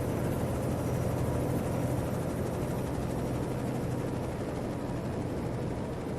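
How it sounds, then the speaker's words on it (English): A helicopter flies overhead in the American Truck Simulator video game, a dense, steady rotor and engine rumble with constant loudness throughout, heard alone without talk. "There's a helicopter overhead in the game because there's some police stuff going on over there."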